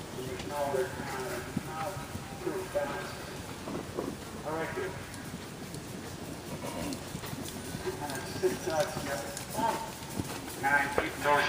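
Horse hooves at a riding clinic, a quick rhythmic clip-clop of trotting and cantering steps across the arena, heard steadily under an instructor talking, with some wind noise.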